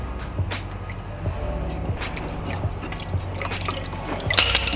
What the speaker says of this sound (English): I hear dripping. Yeah, it's coming.